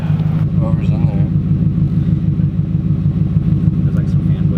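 A Porsche GT3 RS engine and exhaust give a deep, steady, throbbing drone close by, a continuous low rumble with voices faintly talking over it.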